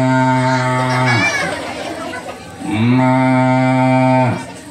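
Children imitate a cow's moo together in two long, loud, drawn-out calls with a short gap between them, voiced by a group of kids at a storytelling session in a tea plantation.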